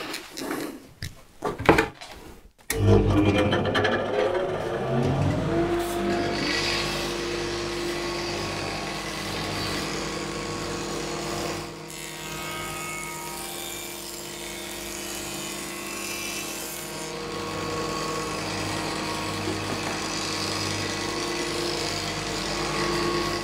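A circular saw cuts a groove across cheap melamine board after a few clicks, then a loud steady whine and rumble that holds for about twenty seconds, close up, no talking.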